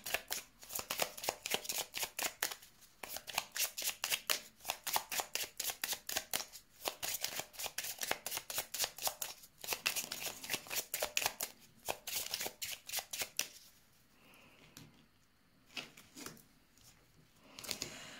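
Tarot cards being shuffled for a reading: a long run of rapid, rhythmic riffling and flicking bursts, close and fairly loud, broken by brief pauses and softening into quieter handling near the end.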